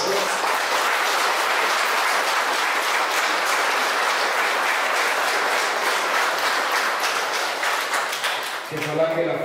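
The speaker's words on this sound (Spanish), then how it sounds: "Un fuerte aplauso para él, por favor." A crowd at a patronal feast of Santiago el Menor in Lachao Pueblo Viejo, Oaxaca, applauds their patron saint with loud, dense, sustained clapping that continues for several seconds before tapering near the end.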